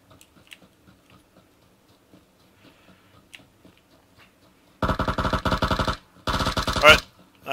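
Gunfire erupts in a video game firefight: after a quiet stretch of faint background ticks, two loud, dense automatic bursts rattle close by, separated by a short pause.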